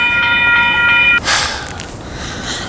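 A light rail train on a city street passes close by, sounding a few rising electric tones before a loud rush of wheels and air swells and then fades away into the cold winter night.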